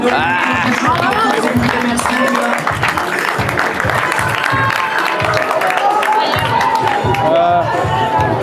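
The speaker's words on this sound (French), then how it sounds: "Applaudissements pour Noé" Crowd applause and cheering for climber Noé at a Team Boulder Arena bouldering competition, loud and sustained, with shouting voices and chatter mixed throughout.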